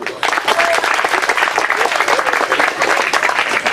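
Audience applause and cheering for a school headmaster at a televised event in Gonaïves, Haiti, a dense, steady roar of clapping that swells in after a brief quiet start and holds loud throughout.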